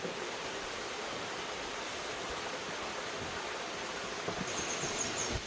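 Steady roar of the Biryong waterfall along a canyon hiking trail, a broad continuous wash of falling water that holds even throughout, with no voices.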